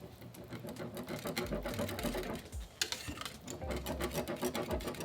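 A whisk works quickly through cornmeal porridge made with coconut milk, nutmeg, cinnamon and vanilla. It makes a fast, steady, rhythmic clicking and scraping that continues without pause.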